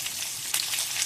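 Ginger fries in hot oil as part of a sago idli tempering. A constant, close hiss of sizzling flares briefly halfway through.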